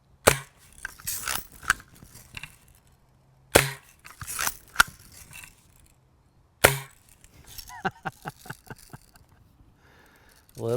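Lil' Sure Shot lever-action BB gun firing, three sharp close cracks spaced a few seconds apart, each followed by a quick run of mechanical clicks and clacks from working the lever.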